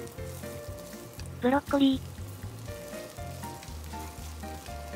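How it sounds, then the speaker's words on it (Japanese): Garlic, paprika, broccoli and frozen seafood mix sautéing over low to medium heat in a frying pan for ajillo, a steady close crackling sizzle that continues under a brief spoken voice. "ニンニクを炒めていきます"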